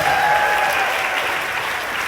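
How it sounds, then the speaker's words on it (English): Short burst of audience applause at a 2024 convocation award ceremony, dense even clapping from a crowd that fades slightly toward the end. "Let's give Dalia a round of applause."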